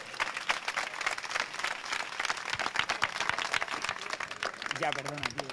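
A crowd applauds a climber who has just gone up and come back down an indoor wall, dense clapping sustained throughout with voices mixed in over it.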